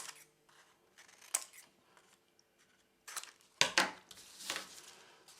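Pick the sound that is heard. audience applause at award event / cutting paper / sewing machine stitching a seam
cutting paper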